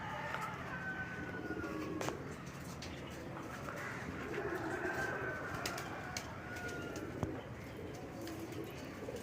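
Domestic pigeons on a rooftop, soft low cooing and occasional chirps at a distance, faint against a steady background hum, with a few brief sharp clicks and no clear speech.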